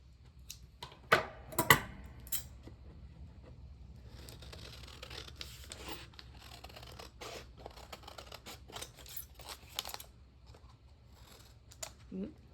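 Scissors snip through a paper apple bag with a few crisp cuts early on, followed by softer paper rustling and light handling noises, with faint talking in the background.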